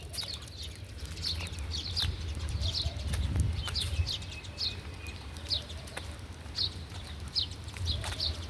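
Small birds chirp outdoors during a walk, giving brief bright tweets in scattered clusters at moderate distance, over a low rumbling background and soft footsteps.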